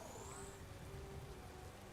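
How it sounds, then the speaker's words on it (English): Steady rain falling in the Pokemon Scarlet and Violet video game, a dense, even hiss of rainfall with faint tonal game sounds in the background. "just instant transition from snow to rain"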